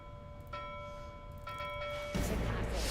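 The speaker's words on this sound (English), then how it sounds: "You just keep ringing that bell," A nautical bell rings in the video game Pyre, with two or three faint clear ringing tones over a low ambient bed, then a burst of louder rushing noise near the end.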